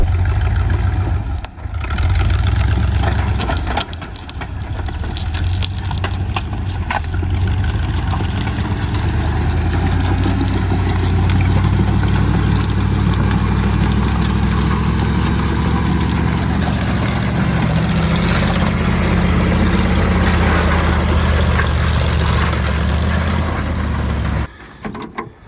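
Snow Cat off-road tow truck engine running, a loud, rough low rumble that holds steady for most of the stretch before cutting off abruptly near the end.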